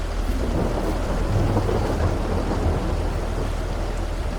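Steady rain and low rumbling thunder from a storm in the Farming Simulator 22 game, a constant dense wash from start to finish with no talk.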